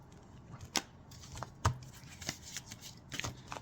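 Tarot cards are handled and drawn from a deck, giving a few soft, crisp slaps and shuffling flicks spaced out over a quiet room, fairly close and faint.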